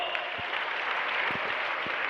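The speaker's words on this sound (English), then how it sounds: "can we have the loudest round of applause for Sunbeam Bhagwanpur?" An audience at a school farewell event gives a round of applause, producing a brief steady wash of many hands clapping at moderate distance, with a few faint low thuds underneath.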